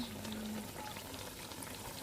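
Blended egusi melon fries in oil in a pot with a faint, even sizzle and a low bubbling hiss. The sound stays constant and quiet throughout.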